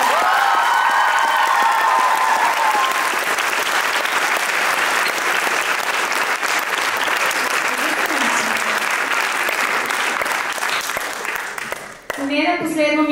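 A crowd at a street dance show applauds loudly and steadily for over ten seconds, a thick wash of clapping with faint cheers, before it drops away and a voice begins talking.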